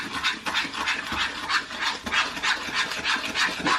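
Butter and sugar being mixed by hand in a bowl without a whisk, a steady run of rasping, scraping strokes repeating in a quick rhythm, close and fairly loud with no talk.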